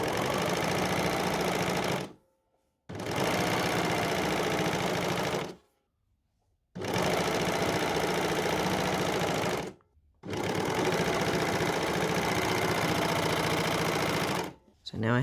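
An overlocker (serger) stitching a T-shirt seam runs in four long, loud bursts of rapid mechanical whirring, separated by brief silences, close up.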